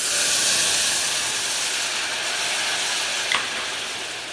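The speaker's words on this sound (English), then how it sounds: "It's going to do a nice little sizzle for you guys right now." A seafood dipping sauce sizzles loudly in a hot pan, a dense, bright steamy hiss that fades slightly over a few seconds, with one brief pop near the end and no talking.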